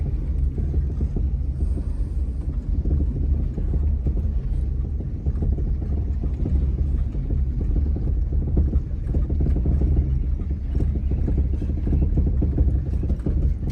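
Steady low rumble of an idling 1956 Chrysler New Yorker engine, a 354 Hemi V8 that needs tuning, running continuously with a rough, uneven clatter throughout.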